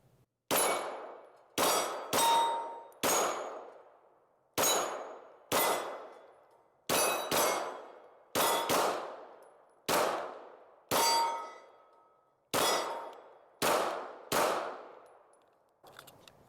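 Stoeger STR-9F 9mm pistol fired at painted steel targets at a range: about fifteen sharp, loud shots in an uneven rhythm, each ending in a bright metallic clang that rings and fades, with no talking.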